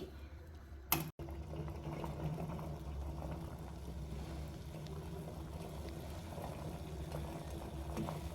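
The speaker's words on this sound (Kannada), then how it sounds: "ಮತ್ತೆ ಎರಡರಿಂದ ಮೂರು ನಿಮಿಷ ನಾವು ಕಮ್ಮಿ ಉರಿಯಲ್ಲಿ ಚೆನ್ನಾಗಿ ಕುದಿಸ್ಬೇಕಾಗುತ್ತೆ" Masala tea simmers on a low flame, giving a steady, close bubbling and low rumbling boil that runs evenly throughout, with one brief knock near the start and no talking.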